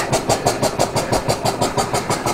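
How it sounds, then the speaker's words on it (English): Small model Jowett engine running on live steam in a diorama generator room, giving a steady rapid chuffing beat of even, close exhaust pulses with no talk. "And there's the Jowett engine running on the Stewart."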